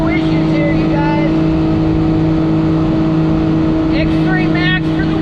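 A Can-Am X3 Max UTV cruising down a highway towing a trailer, its engine whirring in a loud, constant drone with wind noise, with brief voices over it.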